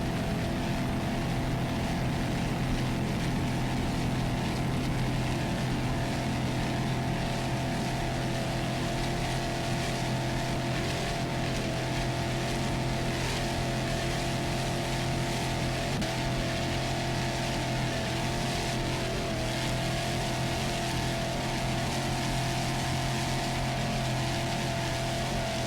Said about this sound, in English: now we're going to pick up PokerRun.com, a 30-foot Phantom